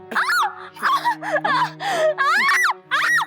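A woman in a Hindi television crime drama scene screams and wails in a string of distressed, pitch-sliding bursts with short gaps between them, loud and close over a faint steady hum.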